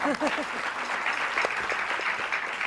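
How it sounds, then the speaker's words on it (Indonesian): A studio audience at an Indonesian late-night talk show claps steadily and loudly, with a host's voice briefly heard over the clapping at the start. "tepuk tangan sama Adrian"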